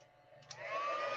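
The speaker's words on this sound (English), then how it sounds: "Her dryer was too loud, but this one isn't." A hair dryer starts up quietly and rises into a steady whooshing blow, close by with no talk.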